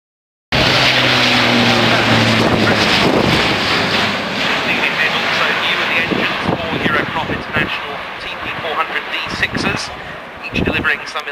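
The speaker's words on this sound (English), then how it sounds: "the flaps should be being lowered for the aircraft to come through in a full configuration pass" An Airbus A400M turboprop military transport roars past in full configuration with flaps lowered, a loud sustained broadband rumble with wind buffeting, while a commentator talks over it.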